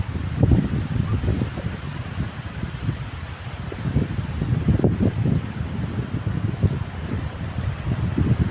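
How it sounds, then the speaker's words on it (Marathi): Sea waves wash up on Palande beach, a soft rolling surge and hiss that repeats under steady wind noise, with no voices. "अली अली लाट अली अगदी आपल्या पायाशी आली"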